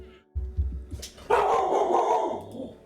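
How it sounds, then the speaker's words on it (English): A dog barks and growls nearby, a few rough low barks followed by a longer, louder sustained burst, with no talking. "And a bark."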